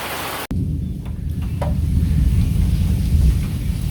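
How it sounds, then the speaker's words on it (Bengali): After a brief hush, a deep, rolling thunder rumble swells amid heavy rain in a village and carries on loud and low for several seconds over a wash of falling water. "অপ্রত্যাশিত একটা বৃষ্টি হয়ে গেল।"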